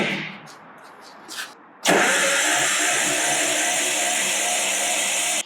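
A 1977 Datsun 280Z with its EFI system disconnected cranks for a compression test, a brief faint rattle at first, then a loud, continuous close cranking drone that stops abruptly.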